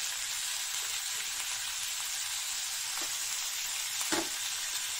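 Ginger garlic paste sautéing in butter in a pan for a red lentil soup, a steady close hiss and sizzle with a couple of brief clinks of a utensil.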